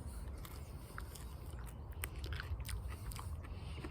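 Fresh, young sorrel leaves being chewed close up in a quiet setting: crisp, irregular crunches and bites that repeat softly over a faint background hiss.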